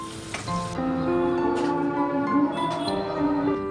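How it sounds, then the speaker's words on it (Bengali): Food frying in a pan, a steady close sizzle that runs throughout with a sustained tonal layer underneath and no speech. "এর উপর দিয়ে খুব সুন্দর করে আরেকটু ভেজে নেব।"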